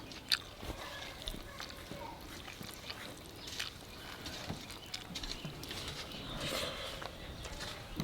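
Someone takes bites of pumpkin and shrimp curry, chewing softly and close by. The faint, irregular sounds sit over a quiet indoor background.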